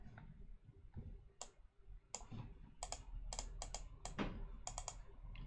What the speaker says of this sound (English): keyboard is not interacting appropriately with Vassal for some reason